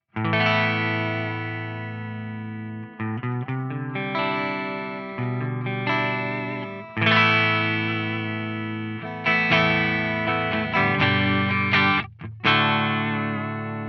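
An electric guitar played through an amplifier on a clean setting, ringing chords and single notes with sustained decay, close and fairly loud.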